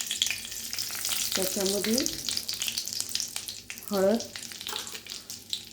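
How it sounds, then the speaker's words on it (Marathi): Cumin and mustard seeds crackle and sizzle in hot oil for a tempering, a dense steady frying hiss with faint pops, while someone talks over it and two sung or drawn-out vocal tones rise briefly. "आता आपलं तेल चांगलं तापलेले आपण त्याच्यात जिरे मोहरीची फोडणी देऊन घेऊयात।"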